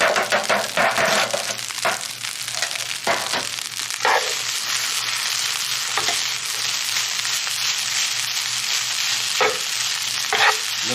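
Garlic fried rice with bacon, spam, peas and carrots stir-fries in a hot pan, sizzling loudly and constantly as a utensil scrapes and clatters at irregular moments, with no talking.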